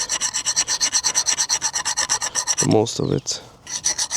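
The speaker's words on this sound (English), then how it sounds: "I don't have a sandpaper here, so I'm going to use my file." A metal hand file rasps rhythmically against a brake caliper pin, with about twenty quick, regular back-and-forth strokes up close, briefly interrupted by a short spoken remark before the filing resumes.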